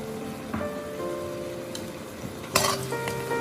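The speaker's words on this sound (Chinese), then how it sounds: "再快速的翻炒，炒出香味" Red peppers and garlic are stir-fried in a hot wok, with a steady sizzle under sharp scrapes and clatters of a spatula against the metal pan, close and continuous, with no voices.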